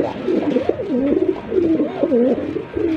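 Several white shirting pigeons coo in repeated rolling, warbling phrases, close and steady for the whole stretch, with a male bird calling insistently as it circles.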